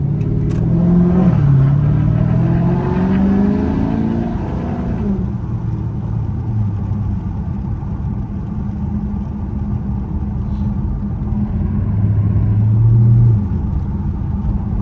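SRT car cruising through suburban streets, a loud deep engine drone that rises and falls with throttle, brief revving swells early and again near the end, continuous throughout.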